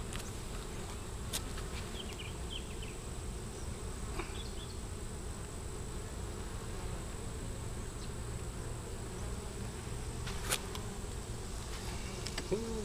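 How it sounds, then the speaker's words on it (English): Honey bees buzz steadily around a Long Langstroth hive, a dense continuous hum with individual bees passing close now and then, no talk over it. "there's still a lot of bees on the wall."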